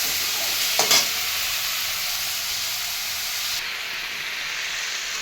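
Vegetable curry of cucumber being sautéed in oil with salt crackles and sizzles steadily up close, with a sharp clatter of stirring near the start and a continuous hiss after.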